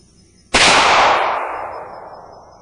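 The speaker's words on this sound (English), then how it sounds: "Let's use this single-action revolver from North American Arms, a little Blackwood and 22 Magnum." A single loud shot from a North American Arms single-action .22 Magnum revolver cracks outdoors, followed by a long decaying echo rolling away.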